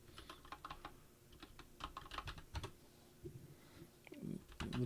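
Typing on a computer keyboard, a steady run of light plastic key clicks in uneven bursts, fairly close and quiet.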